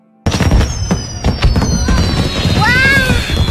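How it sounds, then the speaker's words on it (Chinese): Fireworks burst in a night sky above a city waterway, several sharp cracks and booms followed by whistling streaks rising and falling, loud and fairly close, in a dramatized scene. "好漂亮的烟花！"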